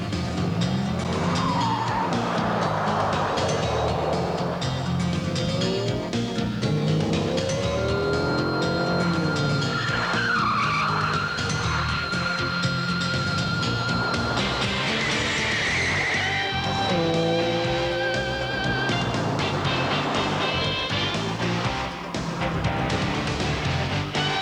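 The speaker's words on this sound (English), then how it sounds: "when that toy is this Chrysler Viper Venom 550" A 1995 Chrysler Viper Venom 550 sports car with an 8-litre V10 engine drives hard on a racetrack, loud engine roar with repeated tire squeals and skids through corners, continuous and close throughout.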